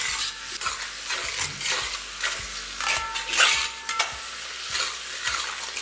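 Thinly sliced onions fry on a high flame for a wedding-style mutton curry, a steady close sizzle broken by rhythmic scraping strokes of a spatula stirring the pan, with no voices.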